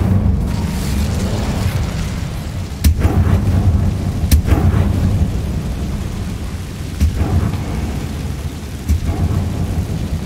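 An Incendio fire spell being cast in Hogwarts Legacy, a loud rumbling roar of flame with deep booming bursts and sharp crackling hits recurring over about ten seconds, no speech.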